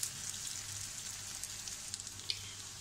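Chicken shami kebabs fry gently in oil over a low flame, a soft steady sizzle with scattered small pops and crackles, quiet and close with no talking.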